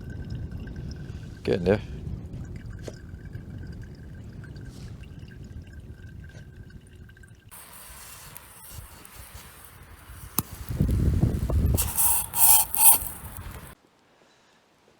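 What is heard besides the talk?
pouring water through pour-through coffee filter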